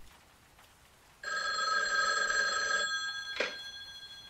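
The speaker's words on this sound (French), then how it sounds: "Le téléphone sonne, une troisième fois." An old-fashioned telephone bell rings once in a sustained metallic burst lasting well over a second, fairly loud and close in a quiet room, followed by a brief clatter.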